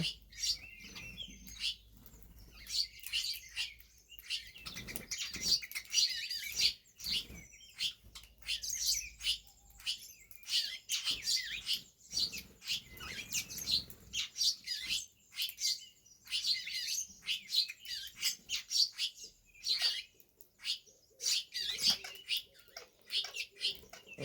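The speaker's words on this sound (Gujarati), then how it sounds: "જો ચકલીઓ નાની ચકલી મોટી ચકલી બધી જ છે" Sparrows chirp in quick, busy bursts, many birds close together, with short pauses between flurries of tweeting.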